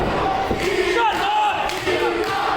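A wrestling crowd roars at fever pitch during an emotional live match, a dense, continuous wall of shouting and cheering with individual voices rising out of the din throughout.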